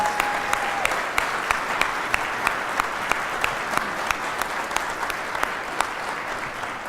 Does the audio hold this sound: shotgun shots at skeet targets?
no